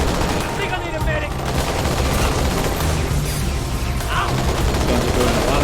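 Gunfire in the video game Halo as Marines fight the Covenant: dense, continuous rapid shots and bursts under a constant battle din, with a voice speaking briefly over it.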